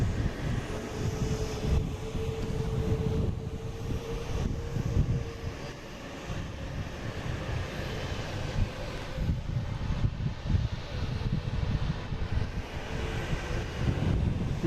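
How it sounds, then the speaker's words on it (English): A JetBlue airliner in special livery arrives, its engines a continuous, fairly loud rumbling roar with wind buffeting the microphone throughout, dipping briefly midway before rising again. "we got this JetBlue special livery coming in here"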